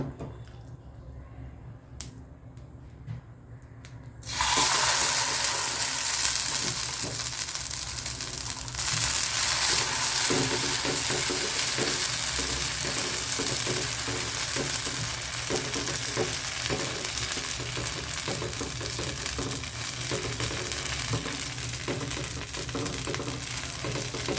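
Bottle gourd adai batter poured onto a hot stone griddle bursts into a loud, steady sizzle after a few quiet seconds, crackling and hissing without pause for the rest of the stretch, with no talking.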